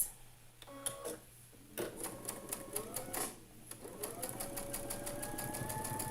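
A domestic sewing machine stitching quilt block rows together, fast rhythmic needle clatter in short bursts and then a longer continuous run, close and fairly quiet with no talking.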